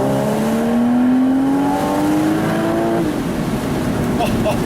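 A 2012 Porsche Boxster S (981) with PDK gearbox revs hard toward its 7,500 RPM red line, its loud, close engine note climbing steadily for about three seconds before dropping back.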